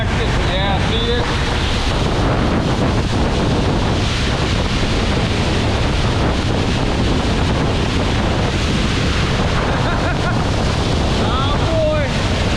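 Heavy flow of lake water rushing through a drainage tube, a loud, constant roar mixed with strong wind buffeting on the microphone, close by, with no speech.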